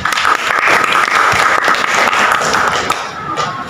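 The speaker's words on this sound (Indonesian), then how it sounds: "Berikan aplaus buat Ima." Classroom students give a burst of applause for a classmate during a chemistry lesson, loud, dense clapping from a nearby group that tapers slightly toward the end.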